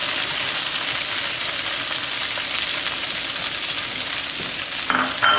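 Potatoes crisping in a hot pan with mushrooms tossed in, giving a steady, loud close sizzle with light stirring and a brief clatter near the end.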